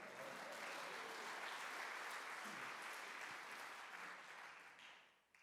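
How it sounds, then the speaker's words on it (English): Sustained audience applause at a poetry slam summit, a dense steady wash of clapping that holds for several seconds before fading away near the end. "Can I get a round of applause for graduating?"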